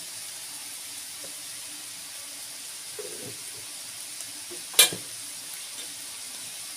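Spinach greens stir-frying in a small pan give a faint, steady sizzle, with soft stirring scrapes and one sharp utensil clank near the end.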